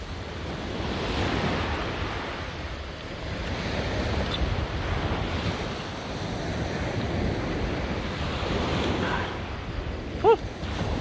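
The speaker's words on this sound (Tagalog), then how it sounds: "Medyo maalon pa rin yung dagat." Rough sea surf rolling onto a beach, a steady broadband wash of breaking waves with wind buffeting the microphone throughout, and a brief faint tonal chirp near the end.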